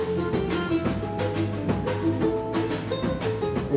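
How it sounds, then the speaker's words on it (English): Surf tunes strummed on ukulele with band accompaniment, a bright continuous rhythmic texture running without any voices. "And this is the sound of surf music on the ukulele."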